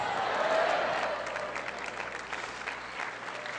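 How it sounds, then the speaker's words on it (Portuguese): A church congregation applauding, a dense, steady round of clapping from a large crowd that swells early and then holds evenly to the end. "Pode aplaudir."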